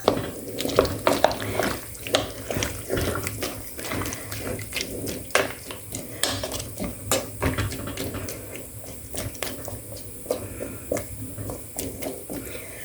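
Water pours into a pot of turkey and mushroom stew with splashing and dripping sounds and a few clinks of metal cookware, close by and moderately loud, with no talking.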